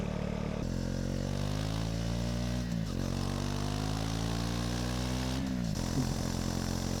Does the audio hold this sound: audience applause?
no